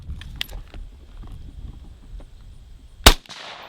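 A single loud, sharp rifle shot rings out at a target on a shooting course, fired through a Nikon Black Force 1000 1-4x scope. Quiet outdoor ambience comes first, and the shot tails into a brief echo.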